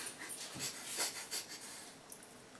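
A big brown dog pants and breathes heavily nearby, a faint string of quick huffs and wheezes with no talk over it.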